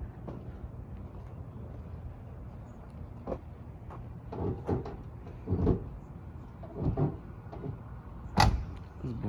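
An OBS Chevy truck door shuts with a few muffled thumps and clunks over steady outdoor wind noise, the loudest sharp slam near the end.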